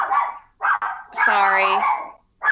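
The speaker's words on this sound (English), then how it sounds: "now my dog's about to bark" A pet dog barks and yips in a few sharp, close bursts indoors, spaced apart with brief pauses, as a person talks between them.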